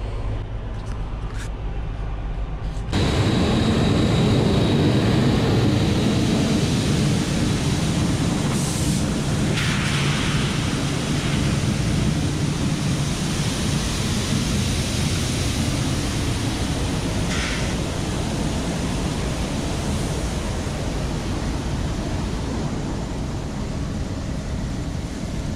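Harvested soybeans pour out of a gravity wagon in a steady, loud, dense rushing roar that continues without a break after a brief quieter start.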